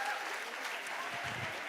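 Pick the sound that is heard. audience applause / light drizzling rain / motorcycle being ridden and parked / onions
audience applause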